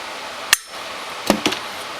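A hammer taps the valve spring retainers on a Honda ATV cylinder head: one sharp close tap, then a quick cluster of three lighter taps, with no talking.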